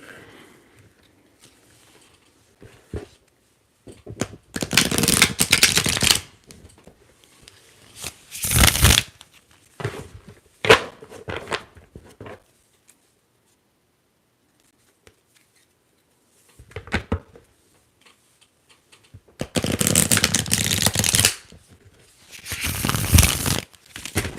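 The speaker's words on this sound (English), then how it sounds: "let's go ahead and shuffle the tarot deck" Bursts of a tarot card deck being shuffled, riffling and flapping close up in several separate rounds with quiet pauses between them.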